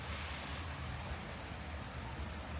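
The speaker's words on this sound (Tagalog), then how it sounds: "The rain is very strong." Heavy rain pours down in Jerusalem, filling the air with a broad, steady roar of falling water, loud and close, with no break and no voices.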